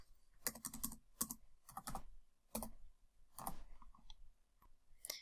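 Quiet keystrokes on a computer keyboard come in short clustered bursts with brief pauses between them, close and soft in a silent room.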